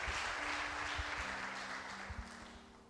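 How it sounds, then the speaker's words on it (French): A church congregation applauds during a worship service, a soft, steady patter of clapping under sustained music tones that slowly fades. "Let's give a round of applause to Lord."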